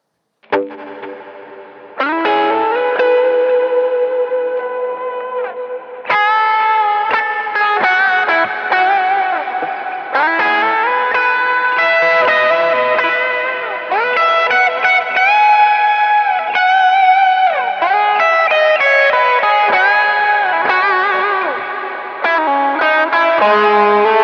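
Electric guitar played through an Ampero II Stomp multi-effects unit with delay and reverb, a lead line of sustained notes and bends trailing echoing repeats and a wide reverb wash, loud and continuous with no talk.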